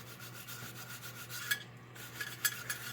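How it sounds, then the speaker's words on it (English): A polish applicator rubs back and forth over a Sharpie-marked surface during a MARX 666 restoration, making a soft, steady scrubbing rasp with a few light scrapes, close but quiet, with no one talking. "you rub this applicator over that Sharpie"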